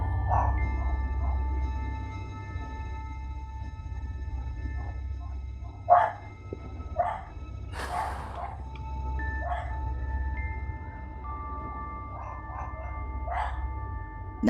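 Pet dogs bark in a few scattered outbursts over a steady low background hum, the barks moderately near and loudest around the middle, with quiet gaps between them and no talking.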